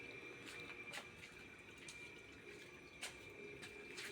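A thin, steady trickle of water runs from a tap, quiet and continuous, with faint intermittent splashes.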